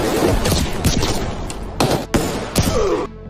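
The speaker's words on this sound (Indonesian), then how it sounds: "puluhan musuh datang menyerang, sehingga baku tembak sengit kembali berlanjut" A fierce gunfire exchange in an action film: dense, loud bursts of shots and heavy impacts crowd together for a few seconds, with no speech.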